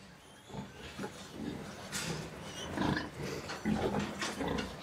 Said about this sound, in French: Son élevage compte environ 3000 porcs.